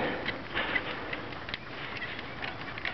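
Hand-cranked brake bleeder vacuum pump being worked to evacuate a vacuum chamber, producing a dense run of quick mechanical clicks and ratcheting ticks, close and steady throughout.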